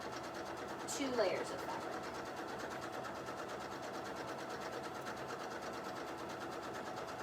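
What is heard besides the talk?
sewing machine stitching fabric layers of a petticoat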